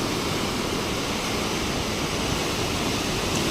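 Sea waves wash over sand on Chivla beach in Malvan, a steady broadband roar of surf with no breaks, loud and close throughout.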